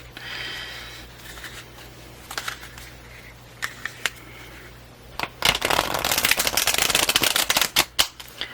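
Tarot cards are shuffled close by: soft riffling at first, then a dense run of rapid papery snaps and flutters growing louder toward the end.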